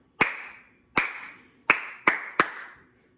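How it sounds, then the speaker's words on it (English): Five sharp hand claps ring out alone in a rhythmic pattern, three evenly spaced followed by a quicker pair, each crisp and close with a short room decay. "we're going to have to clap twice right here in this beat"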